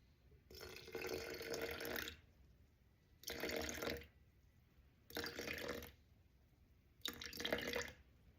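Room-temperature water poured in four separate short bursts for a sourdough starter, each a steady close trickling splash separated by brief quiet pauses, no talking.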